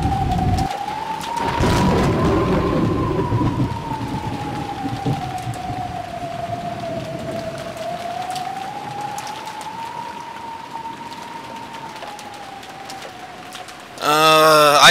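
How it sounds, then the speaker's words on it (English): Steady rain hiss in the Umineko visual novel game, continuous and fairly loud, with a wavering tonal line running over it and a sharp harmonic burst at the very end. "and then it rains."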